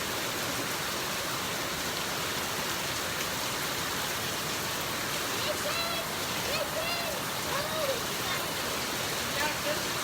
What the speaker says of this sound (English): Yeah, this is pouring rain.